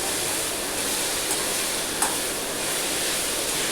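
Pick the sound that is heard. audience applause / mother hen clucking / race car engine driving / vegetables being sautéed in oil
vegetables being sautéed in oil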